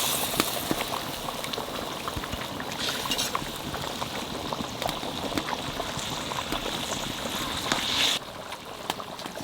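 Chital fish belly pieces go into a pot of water at a rolling boil, giving a steady, dense bubbling hiss with small splashes, close and continuous throughout.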